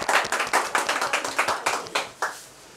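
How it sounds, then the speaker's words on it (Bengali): At a jewellers' lucky draw contest for the Bengali New Year, a small audience claps for a prize winner. The claps come in a quick, rhythmic run, loud and close, then thin out and fade within a few seconds. "অগ্নিশ্বর জুয়েলার্সের জন্য, জোরে হাততালি হয়ে যাক"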